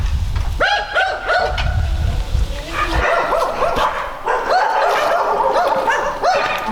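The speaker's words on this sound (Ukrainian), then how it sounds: "Це житло, яке опанували зараз собаки." Dogs barking in an abandoned, war-damaged housing area of a deserted front-line town, several sharp yips and barks in uneven bursts at medium distance, with some whimpering between them.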